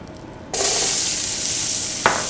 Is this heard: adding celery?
yes